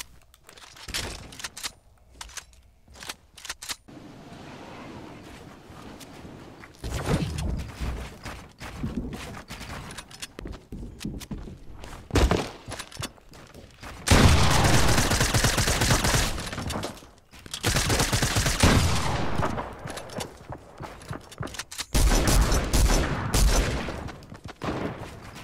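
Infantry Rifle fired in Fortnite, bursts of sharp rapid shots in clusters, loud and close, broken by quieter gaps of game noise.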